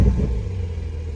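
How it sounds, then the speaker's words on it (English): Low, steady engine rumble from a 2022 Porsche 911 Carrera 4 GTS with a 3-liter twin-turbo flat-six, strongest in the first moment as it catches, then settling into an even idle close by. "I'm gonna go ahead and start it up."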